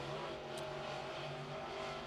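A late model race car's engine drones during Mid-East 604 qualifying at Cherokee Speedway, a faint, steady hum heard from a distance.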